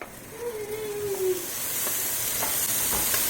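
Home-made ginger garlic paste frying in a pan for mutton curry, a steady close sizzle and hiss that grows slightly louder, with faint scraping stirs.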